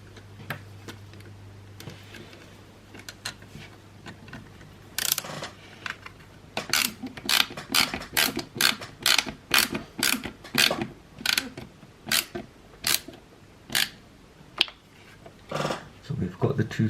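Small screws are driven in while a Tamiya TT-02 RC car kit is built. A close, fast rhythmic series of crisp ratcheting clicks repeats in short bursts over about ten seconds.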